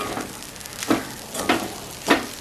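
Sliced plantain and grated coconut fry in a pan as they are stirred, a soft steady sizzle broken by three scraping stir strokes, with no talking.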